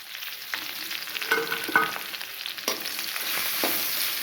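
Stuffed brinjal (gutti vankaya) fries in a pan with a continuous close sizzle, broken by a few louder stirring scrapes and clatters.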